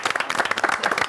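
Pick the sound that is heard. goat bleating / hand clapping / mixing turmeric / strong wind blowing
hand clapping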